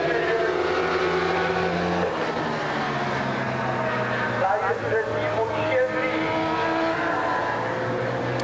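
A racing motorcycle at the 6 Hours of Brno endurance race in 2002 roars steadily throughout, its engine note rising and shifting as it passes, with crowd and commentary-like ambience mixed underneath.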